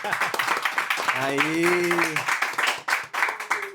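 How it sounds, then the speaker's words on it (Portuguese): A small studio team on a podcast set claps in quick, crisp rhythm. A voice briefly calls out over the clapping midway, and the sparse, nearby claps continue to the end. "Ajuda nos aplausos aí, pessoal, ó."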